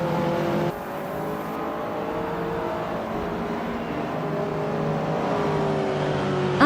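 Race cars, including a classic 1981 Lamborghini Jalpa, accelerate together off the start line at Queensland National Track in a racing video game, a loud, steady, close engine roar with rising revs and a brief squeal at the very end.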